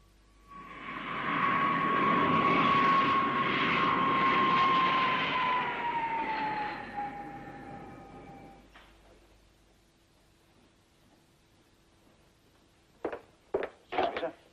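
An aircraft approaches runway 27 at Cranwell to land, its loud engine drone rising and then fading away over several seconds, followed by quiet and a few sharp knocks.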